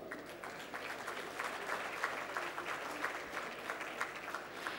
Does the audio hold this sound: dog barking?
no